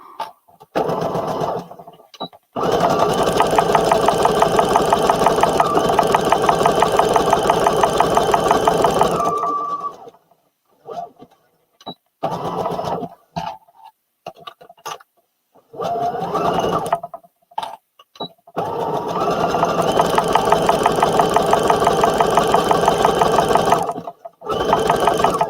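A home sewing machine runs a zigzag stitch in long loud bursts of rapid rhythmic needle clatter, stopping for short quiet gaps with a few clicks before starting again.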